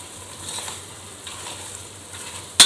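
Chicken pieces sizzle in a hot pan with onion and browned garlic while being cooked for pancit canton, a steady close hiss with a sharp clatter of stirring near the end.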